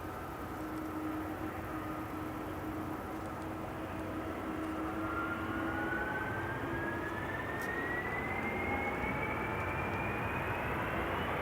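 An Airbus A330 jet at Amsterdam Schiphol Airport, its engines holding a steady loud roar with a whine that rises slowly in pitch as the aircraft pulls up, heard continuously without talk.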